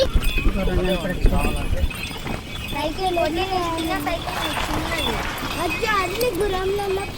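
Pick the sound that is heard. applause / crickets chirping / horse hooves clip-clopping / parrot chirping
horse hooves clip-clopping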